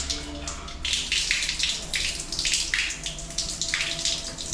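Water from a house shower streams steadily into a shower enclosure, a broad close hiss with uneven surges and splashes throughout, and no voices over it.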